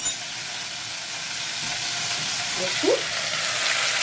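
Meat sears and fries in a pot with a steady, close sizzle and hiss throughout, with a brief spoken word partway through.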